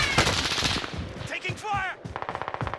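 Rapid automatic gunfire in Call of Duty: Modern Warfare, a dense burst up close followed by a quicker, evenly spaced volley, with a voice briefly speaking in between.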